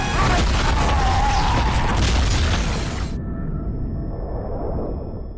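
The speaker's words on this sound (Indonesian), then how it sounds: "Samidi meluncurkan bom roket ke arah mereka." A rocket bomb detonates in a film scene as a loud, close boom with a roaring blast that fills the sound, then cuts to a lower rumbling aftermath.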